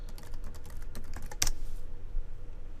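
Close computer keyboard typing of search words into a library's online journal database: a quick run of light key clicks with one louder keystroke near the middle, then quiet, with no talking.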